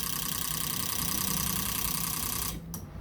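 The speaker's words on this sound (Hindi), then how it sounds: "ये ऑन टेबल इंजेक्टर फायर होना शुरू हो गए और फ्यूल मोटर भी चालू हो गया" Fuel injectors clicking and an electric fuel pump whirring on an ECM test bench for an Alto 800, a steady mechanical buzz with rapid ticking that continues evenly and then cuts off near the end.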